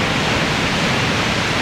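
A roaring waterfall in Iceland, about 198 meters tall, heard from a canyon rim as a loud, unbroken broadband rush with no voices or other sounds on top.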